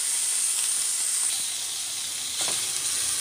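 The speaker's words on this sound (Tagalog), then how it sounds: "Prito muna natin." Pork sizzles steadily in a hot pan, a loud continuous hiss with faint crackles and spits, no voices.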